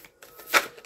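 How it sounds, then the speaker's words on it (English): Tarot cards being shuffled during a Celtic cross reading, heard as one brief riffling burst that rises and fades over a quiet background. "Get you some good shuffles in here"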